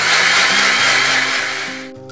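A mixer grinder blends semolina, eggs and oil in a short loud whirring burst that winds down at the end, close up with no talk.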